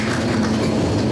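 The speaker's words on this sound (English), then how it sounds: "Every time I talked, there was always a train going by" A train rolls past in Saint Paul as a loud, continuous rumble with rail noise and a steady low drone, filling the whole moment without any voices.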